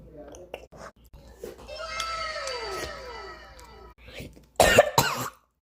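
Coughing while eating pizza, with sauce caught in the throat: a few short coughs and throat noises early on, then a louder burst of harsh coughing near the end, close to the microphone.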